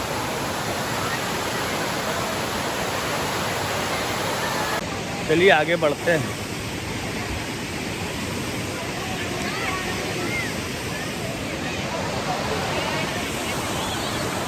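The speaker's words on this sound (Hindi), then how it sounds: "ये जो झरना बन रहा है ये स्पेशल है" A small waterfall pouring into a low pond, a constant broad rushing hiss of falling water heard close, with someone briefly speaking over it partway through.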